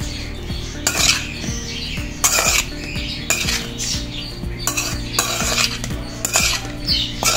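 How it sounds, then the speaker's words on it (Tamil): A metal spoon mixes egg rice in a pan, giving repeated scraping and clinking strokes in an uneven rhythm. The sound is close and fairly loud, with no voices. "இப்போ இதை வந்து நம்ம நல்லா மிக்ஸ் பண்ணி வைப்போம்."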